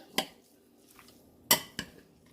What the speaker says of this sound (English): Give this a nice stir.